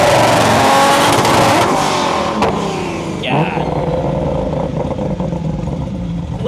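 A 1600-horsepower Toyota Supra engine roars loud and near, revving hard and then settling into a rough, throbbing rumble.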